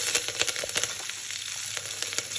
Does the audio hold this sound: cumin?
yes